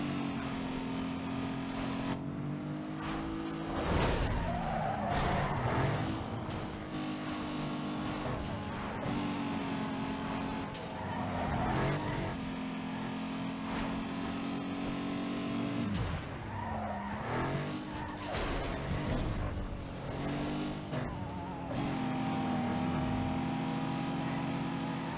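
Sustained tire skidding and squealing from a car in the racing game Need for Speed Underground 2, a droning engine underneath, loud repeated slides and screeches across a long stretch of driving.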